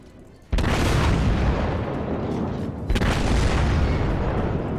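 Battleship main guns fire in World of Warships, two massive booming salvos a couple of seconds apart, each followed by a long, loud rumbling roar that fills the clip.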